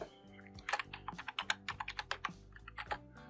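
Quick, close clicks of a computer keyboard as a file name is typed, about two dozen crisp keystrokes in an uneven rhythm, alone and fairly quiet.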